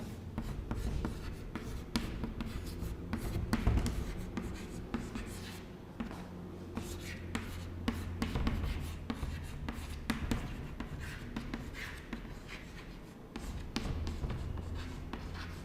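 A lecturer writes names on a board in a classroom, giving a long run of scratchy strokes and taps in an irregular rhythm, close and fairly quiet, with no speech.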